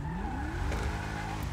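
A new limousine in GTA 5 Online drives a race circuit, its engine revving steadily with shifting pitch and some tire noise, loud and continuous.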